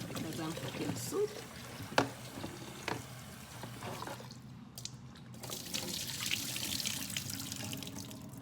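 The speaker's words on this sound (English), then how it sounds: "I'm going to rinse another time because I want to make sure my food is clean" Chicken feet being rinsed under running tap water in a kitchen, with uneven splashing and trickling and a few sharp knocks against the sink, moderately quiet and without talk.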